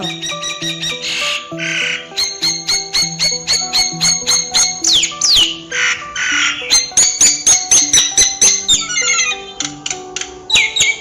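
A myna's singing in a children's forest singing-contest story: a long run of bright, rapid squawking and whistled chirps with sliding trills, loud and close throughout, with no talk over it.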